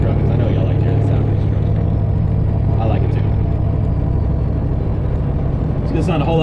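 A semi truck engine rumbles steadily from inside the cab while driving, a loud constant low drone with a few faint clicks and rattles on top.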